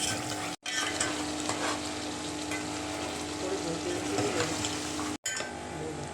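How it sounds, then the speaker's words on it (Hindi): Ground red chilli, coriander, turmeric and green chillies sizzle in a pan while being sautéed, a steady close crackling hiss with occasional scraping stirs, broken by two brief cuts of silence. "अब इसको भूनेंगे, इन मसालों को भी भूनेंगे।"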